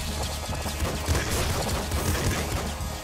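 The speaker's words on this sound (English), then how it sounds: "There's bullets everywhere!" Dense, continuous gunfire and crashing impacts from the top-down shooter Nuclear Throne, a loud unbroken barrage of rapid shots with no voices over it.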